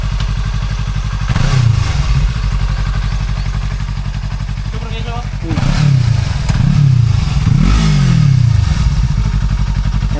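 A Yamaha YZF motorcycle with a slip-on exhaust elbow idles with a steady low rumble, revved several times into louder surging bursts nearby, while people talk over it.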